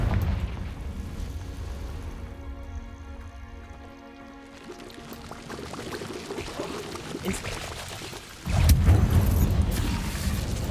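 The Confringo fire spell in Hogwarts Legacy erupts with a sustained roaring, rushing rumble that swells into a louder, deep booming blast near the end, with no speech.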